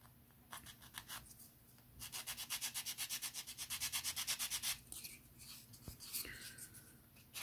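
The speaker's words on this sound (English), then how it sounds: "I'm just going to use a little sanding stick" A small sanding stick rasps back and forth against a hard plastic part of a Bandai miniature Razor Crest model kit in quick, rhythmic strokes, close up, with brief pauses between bursts.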